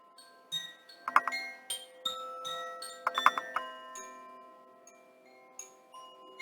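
Chimes ring softly at the close of a guided yoga meditation, bright metallic tones struck in two clustered flurries with scattered single notes in between, decaying gently with nobody speaking.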